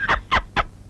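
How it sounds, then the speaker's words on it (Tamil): A chicken gives three quick, loud clucks close by in under a second, with no talking. "கோழி."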